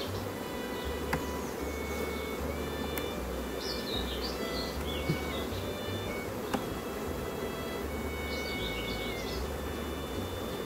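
Honeybees buzzing around a beehive, a dense steady hum close by with a few faint chirping bird calls over it, continuous and fairly loud.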